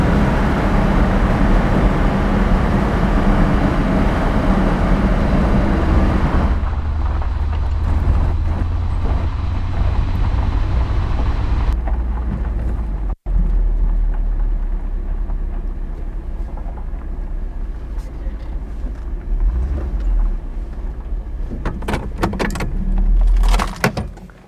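A tobacco-brown 1971 Mercedes 280 SE 3.5 Coupé W111 accelerates with a loud, sustained engine roar. The pitch and tone shift as it pulls away and gears change, and the roar holds steady throughout.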